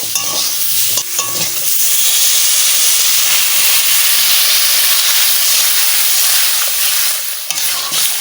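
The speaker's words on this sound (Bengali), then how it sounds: "এবারে বন্ধুরা জল দিয়ে দেব" Water poured over frying taro in a hot pan sets off a loud, rushing steam hiss and sizzle that holds strong for several seconds and then eases slightly near the end, with a few stirring knocks early on.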